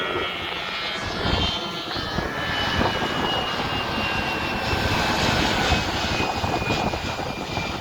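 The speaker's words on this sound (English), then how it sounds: "and there goes a plane." A fixed-wing airplane passes overhead near an airport by a Myrtle Beach shoreline, a steady broad engine roar holding loud for several seconds over the wash of the beach, with no talk.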